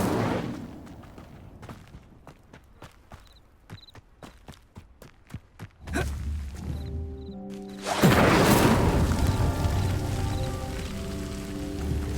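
A magical fire spell in Hogwarts Legacy flares up to light stone pyres: a series of sharp ticks gives way to a sudden whooshing burst, then a louder, sustained crackling roar with ringing tones over it.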